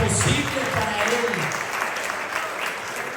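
A church congregation applauds during a Spanish-language sermon, a dense, sustained wash of clapping that fills the room at moderate volume and tapers slightly toward the end.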